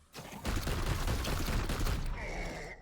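Sustained burst of gunfire from the Warhammer 40,000 Chaos Gate Daemonhunters video game, dense and loud for over two seconds after a brief quiet start, trailing into a thinner ringing tail.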